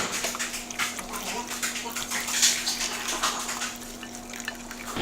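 Key lime pie filling is poured into a crust and stirred along the way, giving a close, continuous liquid splashing and trickling that rises and falls over several seconds.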